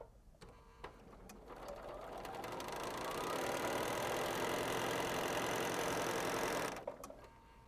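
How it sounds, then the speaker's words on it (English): A sewing machine stitches quilt fabric corner to corner along a marked line, running as one steady, loud, continuous whir for several seconds before stopping. "I'm going to sew from corner to corner right on my line."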